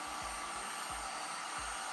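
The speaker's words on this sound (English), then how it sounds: "I can't see this working with the dryer." A hair dryer blows in a constant loud airy whoosh, with a faint low motor pulse repeating underneath.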